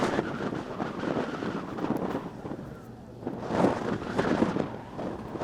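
Strong wind gusts roar across a microphone at an outdoor boys' high school soccer game on a cold late-April day with snow flurries, a broad rushing noise that swells and eases in waves.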